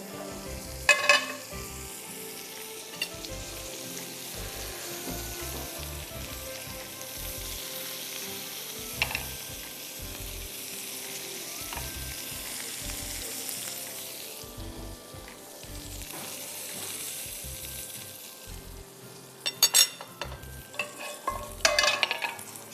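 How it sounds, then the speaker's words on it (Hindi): Egg-white omelette frying in a frying pan, a steady close sizzle running throughout with occasional scrapes and stirring clatters, louder bursts of utensil clinks near the end; no talking. "दूसरा हम फ्राइंग पैन ले लेंगे और उसमें मैं ऑमलेट बना दूंगी"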